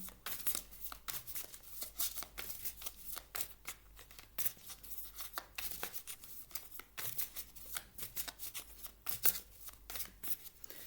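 Tarot cards are shuffled by hand close by, a soft, continuous papery riffling with quick irregular flicks, faint and with no one speaking.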